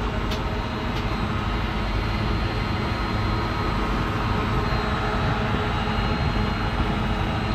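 Steady, loud engine-like drone and rumble of the airplane ride at Tibidabo amusement park in flight, a continuous broadband roar with no pauses, heard alone without talk.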